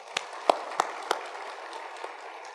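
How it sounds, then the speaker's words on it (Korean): A few scattered, separate hand claps from a church congregation during a Korean sermon. Roughly four sharp claps sound over faint room hiss, then it goes quiet. "박수 한번 쳐드립니다"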